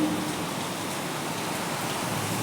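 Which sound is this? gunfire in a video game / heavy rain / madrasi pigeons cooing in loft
heavy rain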